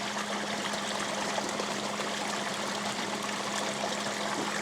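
A steady, even rush of water flowing through a gold-trap sluice, dense and continuous at close range with a faint low hum beneath, no voices.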